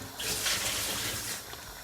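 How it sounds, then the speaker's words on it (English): Water pours steadily into a cooking pot of Jamaican curry goat for a couple of seconds with a soft splashing rush, close by and alone. "I'm gonna also add some more water to it."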